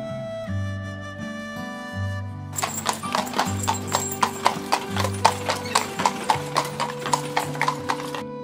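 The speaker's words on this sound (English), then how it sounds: "gallops on his horse" Horse hooves clip-clop in a fast, steady galloping rhythm, loud and close, with a whinny near the start over music, in a children's story about a rider galloping very fast.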